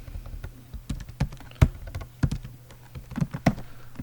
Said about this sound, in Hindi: इसी तरह फादर नेम पासवर्ड लिख देता हूँ